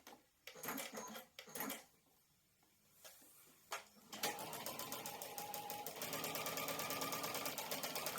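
A sewing machine starts after a few handling clicks and then runs steadily, stitching with a fast, even mechanical rattle.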